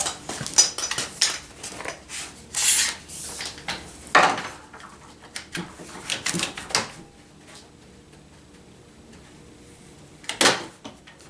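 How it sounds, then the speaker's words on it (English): Wooden clatter and knocks as clamps are set and tightened on a wooden raised panel door, one at the bottom and one at the top, with a run of close taps and rattles, a quieter stretch, then a sharp final knock. "One clamp on the bottom and one clamp on the top."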